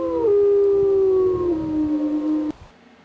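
A lone coyote howls in a long, wavering, tonal cry that slowly slides downward in pitch and then cuts off abruptly, close and loud against a faint background rustle.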